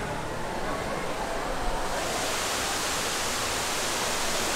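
Water pours down the tall indoor waterfall at Cloud Forest in Singapore, a dense, steady roar that swells partway through and fills the space.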